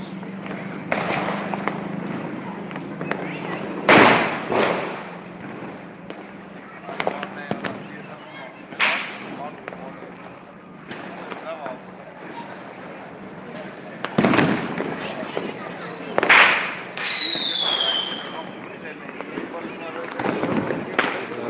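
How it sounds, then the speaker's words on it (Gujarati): Firecrackers and rockets set off at night nearby and across the way: sharp loud bangs scattered irregularly, one rocket whistling upward, with someone talking between blasts. "સામે પણ ફટાકડા ફોડી રહ્યા છે બધા લોકો"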